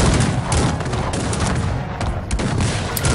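Cannons and gunfire crackle in a 1v1 Cossacks 3 battle, with hussars fighting near the artillery: dense, overlapping volleys of sharp shots and booms in continuous rapid bursts, loud and busy throughout.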